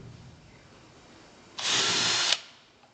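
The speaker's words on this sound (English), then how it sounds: "Just drill holes." A power drill bores random holes into the front of a wooden carving, a single steady burst of about three quarters of a second, close and fairly loud, standing out from a quiet background.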